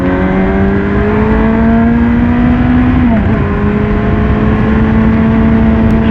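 A 2010 Baby King motorcycle cruises along an open road, its engine a loud, steady drone with wind rush, the pitch holding level and briefly dipping as it shifts.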